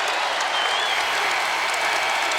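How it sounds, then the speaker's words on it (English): A basketball arena crowd applauds steadily, a continuous wash of clapping and crowd noise filling the whole moment at moderate volume. "The crowd appreciates the effort from the freshman out of Menominee Falls, Wisconsin."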